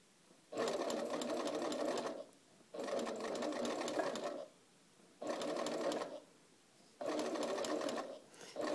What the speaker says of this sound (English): I'll pull it over to the tape, continue sewing,